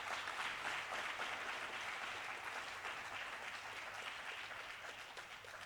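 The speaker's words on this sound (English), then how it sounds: "So let's give them all a warm round of applause." Warm, sustained applause from a graduation ceremony audience honoring doctoral and master's graduates at a Centre for Human Rights event, a dense steady wash of many hands clapping at moderate distance, tapering slightly toward the end.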